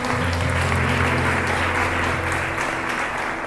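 Loud, steady applause from a church congregation at a gospel service, dense and continuous throughout, with a low sustained tone running beneath the clapping.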